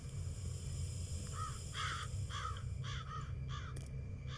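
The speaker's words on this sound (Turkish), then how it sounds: "Lan karga." A crow in the horror game Mental Hospital 6 caws several times in a steady series of harsh calls over a constant low ambient drone.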